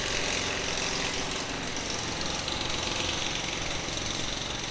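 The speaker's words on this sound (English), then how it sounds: "I'll stay this side until we get past matey doing the drilling." A road drilling machine works on a street in East Pattaya, a steady loud mechanical rattle and engine drone running continuously throughout, close by and with no talking.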